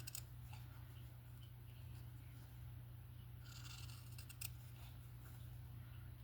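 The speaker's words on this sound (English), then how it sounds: "Then you're going to come in with your scissors and you're going to trim it out." Scissors trim out circles for fabric yo-yos, giving faint, scattered snips and small clicks that cluster near the middle, very quiet over a low steady hum.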